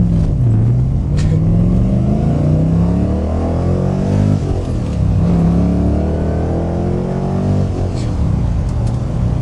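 The iron-block engine of a De Tomaso Pantera accelerates hard through the gears, its loud, rumbling roar climbing in pitch, dropping at each shift, then climbing again, heard from inside the car.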